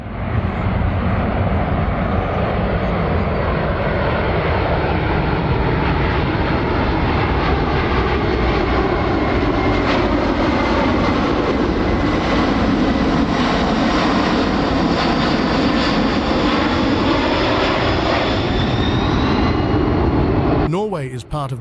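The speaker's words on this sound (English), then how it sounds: "After its demonstration, the C-17 landed and took center stage" Boeing C-17 military transport aircraft at the Sola Airshow 2024 in Norway, its jet engines giving a loud, steady, continuous roar for about twenty seconds while a person talks over it.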